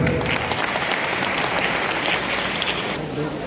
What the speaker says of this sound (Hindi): अभी वक्ता के रूप में जो बोल रहे थे हमारे पुष्पेंद्र वाजपेयी के लिए भी ताली बजाकर स्वागत करें